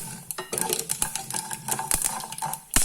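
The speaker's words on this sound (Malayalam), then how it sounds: "കടുക് പൊട്ടി തുടങ്ങി." Mustard seeds with peppercorns crackle in a tablespoon of hot oil in a pan, with a rapid irregular run of sharp close pops and snaps, some louder bursts, and no talking.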